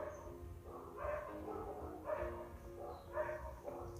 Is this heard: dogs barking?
yes